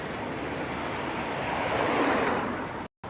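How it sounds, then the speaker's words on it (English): A chilly wind buffets the microphone while a cyclist rides outdoors. The rush is steady, loud and broadband, with one brief dropout near the end and no speech. "That wind is chilly."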